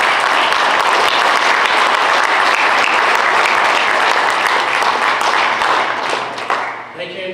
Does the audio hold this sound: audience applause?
yes